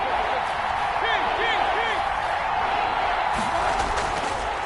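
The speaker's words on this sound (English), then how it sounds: "The crowd getting into it as we come up on a big 3rd down" Stadium crowd noise in an American football video game, a steady roar rising ahead of a big third down, with whistle-like calls and chants over it and no clear voice in the foreground.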